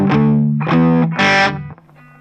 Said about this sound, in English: then he takes everything off and plays an up pick with the open strings.